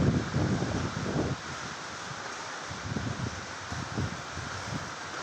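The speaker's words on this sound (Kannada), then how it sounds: "ಈಗ ನೋಡಿ ಗಾಳಿ ನೋಡಿ ಇವತ್ತು ಇವತ್ತು ಗಾಳಿ ಶುರುವಾಗಿದೆ" Steady cyclone wind blowing outdoors, a broad rushing roar with gusty swells, loudest at the start and then settling into a continuous, slightly fluctuating whoosh.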